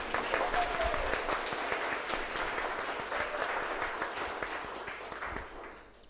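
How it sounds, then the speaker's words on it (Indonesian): A university ceremony audience applauds steadily for several seconds, dense clapping that gradually fades toward the end, with a voice faintly heard early on. "Mohon tepuk tangannya kali ini kencang sekali untuk UNU."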